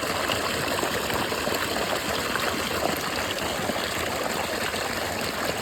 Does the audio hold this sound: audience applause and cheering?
no